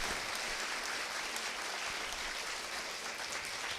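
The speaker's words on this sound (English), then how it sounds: "Now can we give a thunderous round of applause to Group Captain Shubhanshu Shukla" An audience gives a thunderous round of applause for Group Captain Shubhanshu Shukla at a space event, a continuous dense roar of many hands clapping at steady loudness throughout, with no talk over it.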